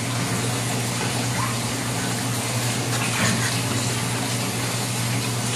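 Water runs steadily from a leak, a continuous close hiss and gush that stays constant throughout, with no voices.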